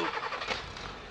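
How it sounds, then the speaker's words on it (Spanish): A car engine turns over and catches in a brief, rough burst of cranking that settles into a running idle, heard close and alone. "encendió el carro"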